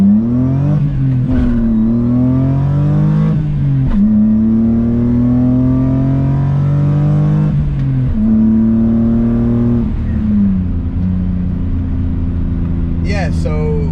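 BMW E30 with a swapped M50 engine, heard from inside the car, pulls hard through the gears: several loud rising revs, each broken by a shift, with a brief squeal of wheelspin.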